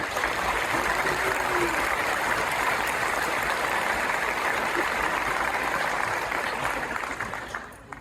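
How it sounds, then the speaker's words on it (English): Sustained, dense applause at a fire department ceremony for family and friends, a steady wash of many clapping hands at even loudness that tapers off near the end. "I'd like to give a round of applause for our family,"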